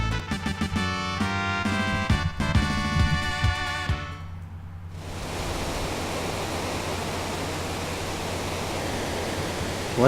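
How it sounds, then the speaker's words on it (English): Waterfall in Final Fantasy VI: a steady, loud, broad roar of rushing water takes over after a few seconds of tonal game music and continues unchanged to the end. "I don't remember there being a waterfall."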